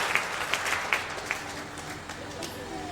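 A church congregation applauds in praise, scattered clapping over crowd noise and voices, moderately loud but thinning over a few seconds.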